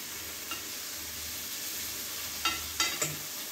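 Shrimp browning in a pan with flour in a light gravy, a steady soft sizzle with a few faint scraping stirs near the end, no talking.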